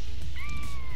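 A cat meowing in the firefighting video game FirePoint, a single drawn-out mew rising then falling, heard clearly over a steady low rumble of game noise.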